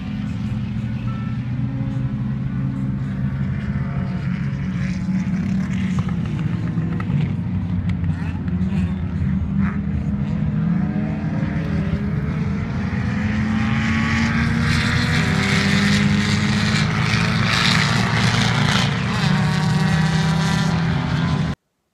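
Race cars at the Teretonga circuit roar past in a continuous engine drone that swells louder toward the end, recorded trackside with a steady background rumble.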